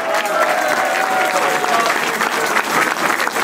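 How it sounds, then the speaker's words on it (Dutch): Crowd at a key handover ceremony in Valkenburg gives sustained, loud applause for François Stevens, with dense clapping throughout. "Mogen we een applaus hebben voor François Stevens?"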